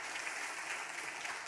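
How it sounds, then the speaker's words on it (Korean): Steady applause from a church congregation during a Sunday worship service, a dense wash of clapping filling the room continuously at an even level with no talk over it. "한번 박수해 주시죠."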